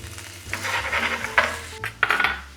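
Bacon added to a pot of beef bourguignon, a close, bubbling sizzle with a couple of sharp scraping stirs and clinks of a utensil, no voices heard.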